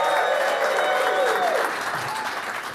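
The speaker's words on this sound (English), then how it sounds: "Let's hear it for Nick" Applause from a live comedy audience in New York City, a steady wash of clapping that fades slightly toward the end.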